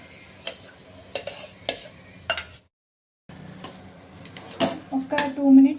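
Soaked basmati rice stirred into biryani masala in a pot, with repeated scraping and clinking strokes of a spoon against metal, a brief silent gap midway, then resumed stirring over a faint sizzle.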